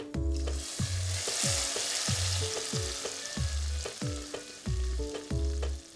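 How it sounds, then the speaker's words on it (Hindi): Lightly browned garlic tadka poured over cooked dal in a restaurant-style dish, giving a loud, close, hissing sizzle that runs throughout, with a steady rhythm of low thumps underneath. "लहसुन जो है वो हल्का सा ब्राउन हो चुका है, तो चलिए जी इसको हम दाल के ऊपर डाल देंगे।"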